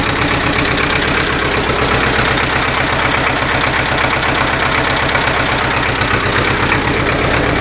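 Old-style Hardy diesel tractor engine idles just after a cold start, a loud, close, steady knocking chug with an even rapid rhythm throughout and no talking.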